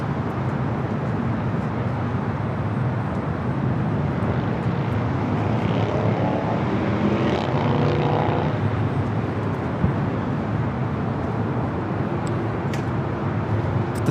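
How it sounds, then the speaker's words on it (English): EVA Air Boeing 777-300ER arriving on the north side at LAX: continuous loud jet roar with a brief whining sweep near the middle, no voices over it. "So back-to-back 777-300ER arrivals here on the north side momentarily."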